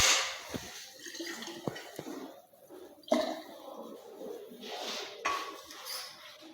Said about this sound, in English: Rinse my conical flat with distilled water.